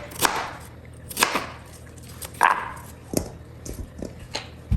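A knife cuts through ginger on a cutting board, a series of distinct sharp chops spaced roughly a second apart, close and fairly loud, alone with no speech.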